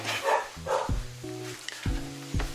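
Several dogs bark loudly and excitedly at a country house with large grounds in Damyang, South Jeolla, Korea, giving a series of close, overlapping barks with short gaps between them.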